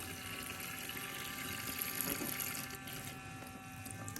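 Kitchen sink tap water runs in a steady stream while fruit and vegetables are washed, a continuous moderate splash with faint handling noises and no talking.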